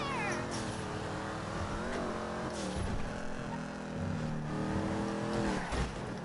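A Mustang sports car engine in GTA 5 revs and accelerates, its rising and falling pitch shifting through gears, loud and close, with brief tire noise.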